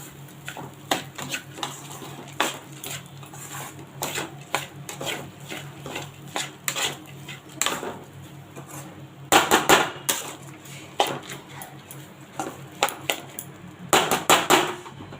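A utensil works turmeric into rice in a metal pot for pulao, producing repeated scraping and clinking strokes against the pot, loud and close, in uneven bursts with short pauses between.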